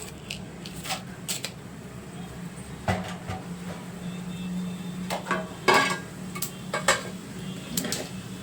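A spoonful of tempering spices fries in hot oil in a pan on a stove flame for a carrot stir-fry, giving a low steady sizzle broken by scattered sharp pops and crackles.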